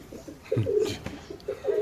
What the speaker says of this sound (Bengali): কি খাসার কবুতরটা ভাই